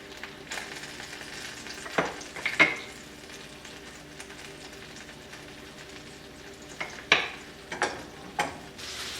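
Salted and peppered pork chops browning in a frying pan, a steady soft sizzle with a few sharper pops and clacks of the pan, no voices.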